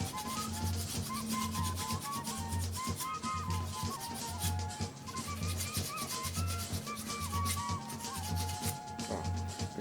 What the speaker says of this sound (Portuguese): vamos passar a lixa aqui, ó, tá? Para remover também esse excesso de material